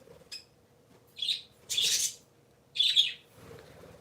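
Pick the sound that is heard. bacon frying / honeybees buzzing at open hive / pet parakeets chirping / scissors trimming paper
pet parakeets chirping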